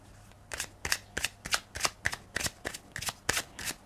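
Tarot cards being shuffled by hand, a crisp riffling flutter repeated about ten times in a steady rhythm, close and fairly quiet with no talking.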